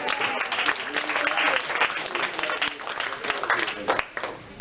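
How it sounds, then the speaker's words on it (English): Applause from an elementary school audience at a Black history celebration and family music workshop, a steady mass of claps lasting throughout at moderate level, with a slight fade near the end. "Give him a round of applause."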